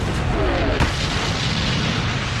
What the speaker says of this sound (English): the British and Americans are greeted with cannon fire from the Vichy French